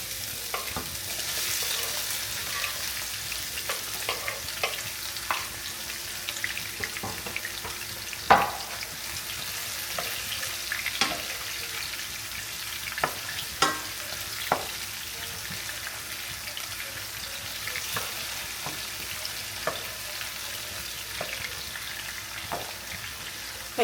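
Diced garlic and onions fry in a pan for a curry goat dish, giving a steady close sizzle punctuated by frequent light taps and scrapes of a utensil.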